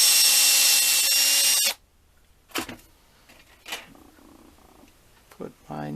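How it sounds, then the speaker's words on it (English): A small power drill whirs loudly for under two seconds drilling a 1/16-inch hole, then stops, leaving quiet handling sounds and a few short bumps. "I'll drill a 16th inch hole."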